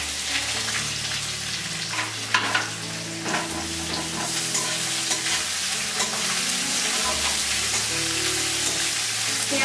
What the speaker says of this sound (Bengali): পেঁয়াজটাও একটু ভাজা ভাজা করে নিতে হবে।